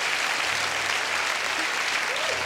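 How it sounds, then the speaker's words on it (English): A television studio audience claps steadily and densely throughout at a late-night talk show taping, with no speech over it. "The woman's applauding."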